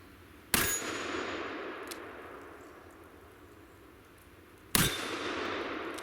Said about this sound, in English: This is a in-frame 44 mag, and I can't wait to shoot it. First shots ever right here.